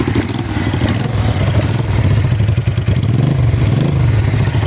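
A 1988 Honda Bros 400 motorcycle with a loud exhaust revs close by, its deep engine rumble running continuously and swelling and dipping in pitch as the throttle opens and eases. No voices are heard.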